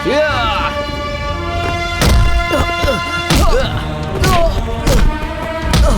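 Punches and blows in a film fight beating, a run of heavy thuds and whacks landing in a loose rhythm every second or so over a loud dramatic music score.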